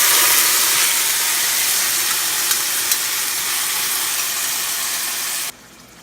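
Cooked liver hits hot coconut oil with curry leaves, giving a loud, steady, close sizzle that cuts off abruptly near the end.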